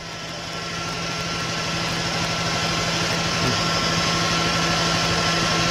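John Deere B two-cylinder tractor running hooked to a load at about 650 rpm, a steady low, even engine drone with a faint hum that swells slightly in the first couple of seconds and then holds constant.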